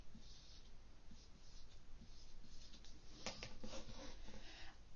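Marker or pen writing on a board during a maths lesson, a steady faint scratching and squeaking of strokes with a few sharper marks near the end, heard alone without talk.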